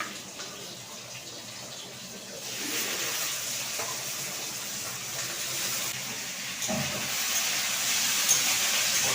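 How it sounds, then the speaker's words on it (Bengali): Green beans frying in oil in a pan while fried rice is being made, a steady hiss and sizzle that grows louder after the first seconds and keeps going without voices. "এরপরে আমি বিনগুলিও ভেজে নেব।"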